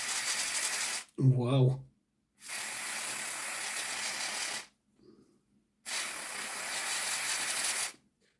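Contact cleaner sprays onto the motor of a Tri-ang Hornby Flying Scotsman model locomotive in two long, steady, close hissing bursts of several seconds each, with a brief spoken exclamation between them.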